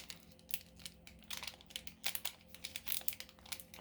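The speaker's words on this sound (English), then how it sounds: "One thing I wish I could edit out is the crinkling of the packs" Plastic foil of Pokemon card packs crinkles in sharp, irregular bursts close to the mic, quiet overall with no talking.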